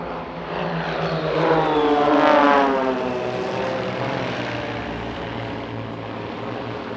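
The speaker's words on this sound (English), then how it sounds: "Here comes some negative G flying" A Flying Bulls aerobatic propeller aircraft drones overhead while flying negative G at an airshow in Leszno, the engine note swelling and bending as it passes, loud and continuous, then easing slightly.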